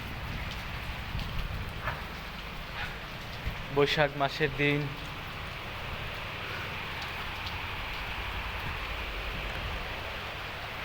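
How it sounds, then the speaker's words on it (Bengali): Heavy rain drumming on the tin roof of a village house during a storm, a steady dense hiss throughout, with someone speaking briefly near the middle over the downpour. "দেখুন প্রচুর বৃষ্টি হচ্ছে।"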